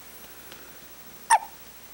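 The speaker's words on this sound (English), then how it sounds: "Are those pesky little hiccups?" A young child gives a single short, sharp hiccup, close and fairly quiet against a still room.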